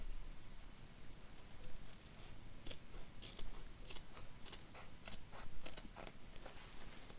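Scissors snip through fabric for a Christmas stocking, a series of close, crisp cuts in an irregular rhythm with soft rustling between them.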